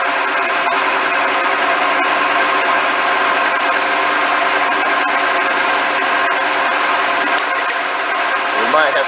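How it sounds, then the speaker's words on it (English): A drilling machine runs steadily with an oiled bit cutting into a metal spacer in a motorcycle shop, giving a constant close mechanical whine and hum with no pauses. "And we're going to start drilling."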